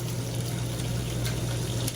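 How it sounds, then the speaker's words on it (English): Cold water runs from a tap into a pressure cooker in an RV kitchen, a steady close splashing stream with a low pump-like hum underneath and no speech. "So I'm going to run some cold water in there."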